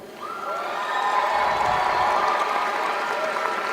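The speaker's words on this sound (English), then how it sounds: "We got to give you a round of applause." Sustained applause and cheering from a large crowd at a high school graduation ceremony, steady and full for nearly four seconds with scattered shouts mixed in.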